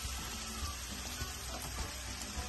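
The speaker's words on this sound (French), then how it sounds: "Nous mélangeons un peu nos oignons, nos poivrons et notre piment doux" Onions, peppers and sweet chili frying and being stirred in a pan, a constant dense sizzle with soft scraping and stirring bumps, no voices.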